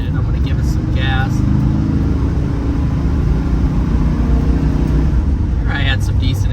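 A 1967 Chrysler 300 accelerating in second gear gives a steady, loud low engine rumble that holds throughout, with a few brief higher-pitched squeaks or whines near the start and end.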